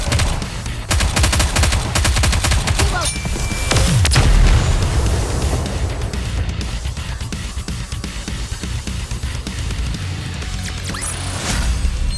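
Dense, sustained gunfire and heavy booms from the mobile shooter game Nikke: Goddess of Victory, with rapid automatic bursts layered over deep explosive thuds, loud and continuous throughout with no pauses.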